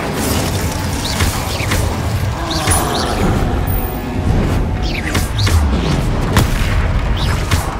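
Fiery spell blasts from a Hogwarts Legacy battle boom and crash repeatedly, loud and close, with whooshing bursts and rumbling impacts layered over a busy combat din.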